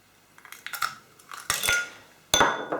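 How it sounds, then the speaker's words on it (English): A small metal hand whisk beating eggs in a bowl for brownie cake batter, heard as irregular clinks and scraping bursts of metal against the bowl that grow louder and denser toward the end, with no talking. "I'm going to use my little sort of hand whisk here, just to try and make it a bit frothy really, get it all well mixed up"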